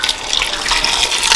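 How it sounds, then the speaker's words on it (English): Boiling hot water pouring into a pot of feet being parboiled to remove odor, a steady close splashing stream throughout. "I'm adding some boiling hot water"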